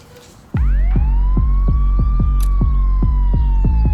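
A police car siren starts abruptly and wails loud and close, its pitch sweeping up and then holding in a long, steady tone over regular low thumping pulses.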